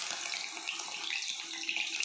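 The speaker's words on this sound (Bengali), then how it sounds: "আমি ঠান্ডা জলের মধ্যে দিয়ে দিই, তাহলে পনিরটা সুন্দর শক্ত হয়ে যায়।" Fried paneer pieces go into cold water, making a soft, steady watery swish and trickle, close and quiet for about two seconds with no speech.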